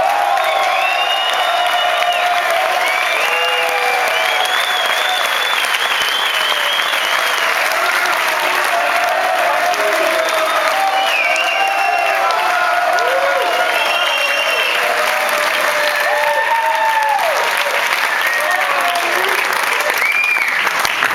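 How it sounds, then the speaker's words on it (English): A large crowd at a surf film premiere in Newport Beach applauds steadily with scattered cheers and whoops, a dense continuous roar of clapping that never lets up. "How about making some noise for Ron Romanowski?"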